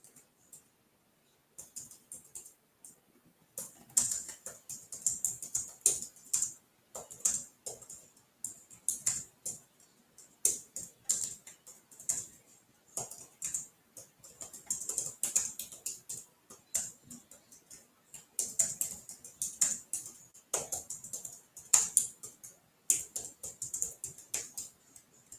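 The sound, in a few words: typing on a computer keyboard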